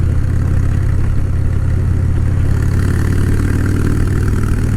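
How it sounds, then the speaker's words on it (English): Harley-Davidson motorcycle engine while riding through an S-curve, a loud, steady low rumble with a continuous throbbing beat and no speech over it. "Harley will smoke most cars even, because, well, it's a motorcycle."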